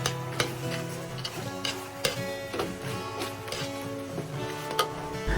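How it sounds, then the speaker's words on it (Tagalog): Beef pares simmering slowly in a pan, with steady low bubbling and sizzle broken by occasional clinks and scrapes of a spoon stirring against the pan, no talking. "hayaan natin siyang maluto ng dandahan sa kawali"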